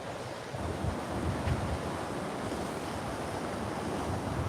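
Sea waves roll steadily onto a beach in Peguera, Mallorca, during stormy weather, as a continuous roaring surf mixed with wind noise.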